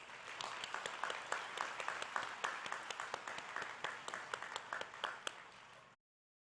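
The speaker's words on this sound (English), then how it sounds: "give them another round of applause" Audience applause in a hall at the Amarillo High School 2023 graduation, many hands clapping with sharp distinct claps over a dense rattle, fairly faint and steady before stopping abruptly.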